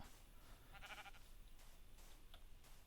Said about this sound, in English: Oh, sheep! Hello, sheep.